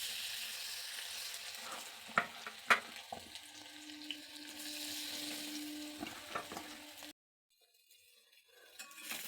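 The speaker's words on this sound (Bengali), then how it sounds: "আমি ভাজছি" Soybean chunks fry in hot oil with a steady sizzling hiss, broken by a few sharp clinks of a utensil against the pan. Near the end the sound cuts out and returns quietly.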